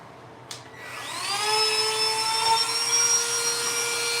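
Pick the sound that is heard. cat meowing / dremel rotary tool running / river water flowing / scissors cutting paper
dremel rotary tool running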